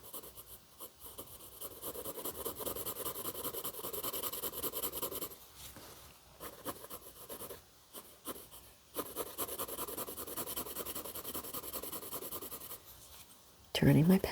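Colored pencil scratching steadily across paper with a gentle touch while drawing a cozy fireplace scene, continuous soft rasping strokes with brief pauses, close and quiet, a voice talking over it.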